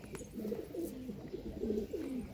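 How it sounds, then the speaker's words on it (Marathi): Night-flying pigeons of the Andhra line coo repeatedly in soft, rolling phrases, close by and steady over a faint background hum. "दोन्ही पूर्ण नाईट उडायचे कबूतर आहे."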